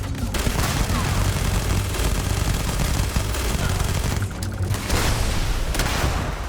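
Dense gunfire crackles through a firefight in the Starfield game, sustained bursts of automatic shots and booms forming a loud, continuous barrage with brief lulls, with a voice faintly mixed in.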